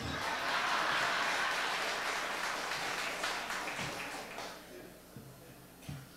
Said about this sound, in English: Give him another nice round of applause because he's celebrating his 53rd birthday tonight